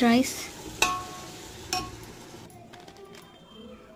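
Peas are being stirred with curd in a pot for batani bagara rice. A spoon gives a few sharp metallic clinks against the pot over soft scraping and a low background hiss.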